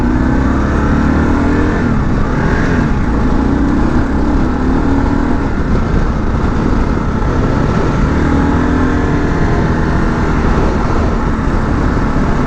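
A new Kawasaki KLR adventure motorcycle rides a gravel road, its single engine droning loud and continuous with shifting revs and wind rush, close throughout without talk.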